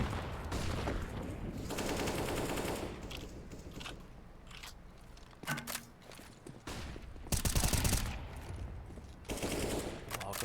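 Counter-Strike gunfire from a silenced M4 and an AWP sniper rifle during a competitive Inferno match, heard as bursts and single shots mixed with game sounds and footsteps, with commentators talking throughout.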